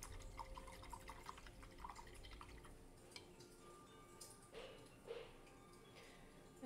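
A paintbrush is swished and tapped in a water cup, giving soft, close drips and splashes with a few clearer clinks near the end, quiet and without talk.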